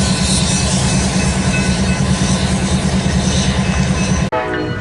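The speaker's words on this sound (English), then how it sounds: "This is a eastbound Autorack train. Passing through Fremont," An eastbound Autorack freight train passing close through Fremont, Nebraska, with a loud sustained horn over the heavy rumble and rattle of rolling cars, the horn cutting off abruptly near the end.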